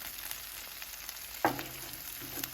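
Melted provolone being worked into sizzling steak on a Blackstone griddle, a soft steady sizzle with one sharp scrape of the spatula midway, close but fairly quiet.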